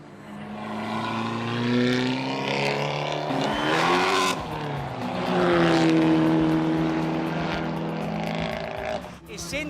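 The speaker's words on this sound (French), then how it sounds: "Les voitures sortent des boxes pour les premiers tours d'essais libres." Race cars leaving the pits for their first free practice laps, engines droning and rising and falling in pitch as they pull away. A voice speaks over the cars.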